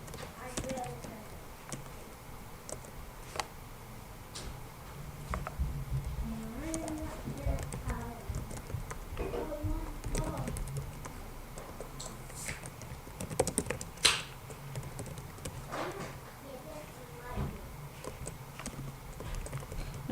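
Someone types on a computer keyboard, giving quick clusters of soft key taps at a steady working pace under occasional talk.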